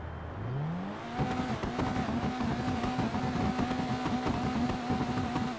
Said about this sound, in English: the sound is probably giving you a hint that this vehicle is part of the sports classics category in GTA Online